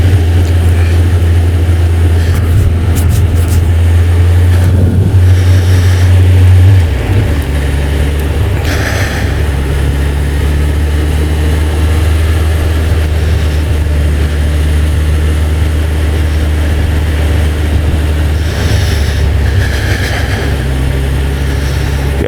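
A Suzuki GSX-1300 motorcycle engine rumbles loudly and steadily while riding through an industrial estate, with a throttle blip shifting its pitch partway through amid wind noise and no talk.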